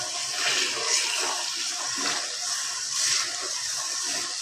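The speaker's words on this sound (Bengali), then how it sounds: "আধা কেজি তেল দিচ্ছি আমি" Cooking oil, half a kilo, poured onto three kilos of olives for a sweet-sour pickle, making a steady broad gushing, splashing pour that runs throughout with slight surges.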